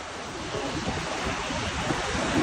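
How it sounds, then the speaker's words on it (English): Strong wind gusting across a beach in the Hamptons, a constant loud rumbling roar of air buffeting the microphone, blended with the wash of surf and no speech. "Little windy."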